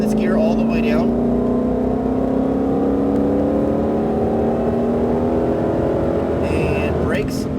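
A Ford Mustang Shelby GT500 engine pulls hard on a race track, a loud steady roar with rising tones, while a person talks over it at the start and end.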